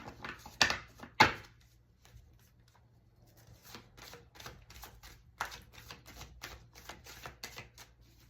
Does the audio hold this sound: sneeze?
no